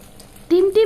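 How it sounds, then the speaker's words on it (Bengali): Beaten egg dropped into moderately hot white oil in a pan, a sudden bright sizzle bursting in twice in quick succession after a quiet start, close and fairly loud. "সাদা তেল মোটামুটি গরম হয়ে গেলে আমি এতে দিয়ে দেব ফেটিয়ে রাখা ডিমটি।"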